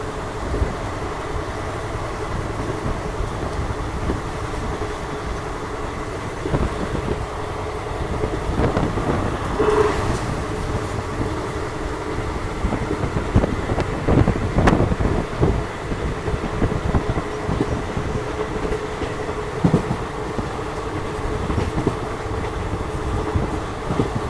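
Passenger train running on the Dindigul–Madurai route in southern India, a steady rolling rumble with faint clickety-clack and gusts of wind noise throughout, continuous and fairly close, no talking.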